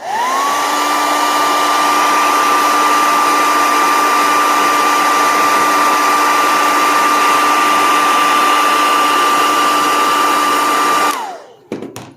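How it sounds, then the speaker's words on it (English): Heat gun blowing hot air onto the back glass of an LG Velvet phone, a loud, steady whooshing drone with a constant tone that runs for about eleven seconds before cutting off abruptly. "I'm going to blast it with some heat"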